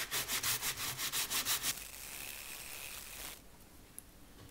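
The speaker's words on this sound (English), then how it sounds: "We'll just sand it off to smooth things over." Wood being sanded smooth by hand on a small craft build, a quick run of rhythmic rubbing strokes up close, then a quieter steady scrape that fades to near silence.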